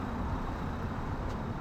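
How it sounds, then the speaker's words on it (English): Dense road traffic rumbles steadily past a graveyard on the Shankill, a continuous broadband roar of cars and heavier vehicles close by, loud and unbroken. "traffic is pretty heavy here"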